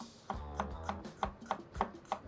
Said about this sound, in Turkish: Olabildiğince ince doğruyoruz.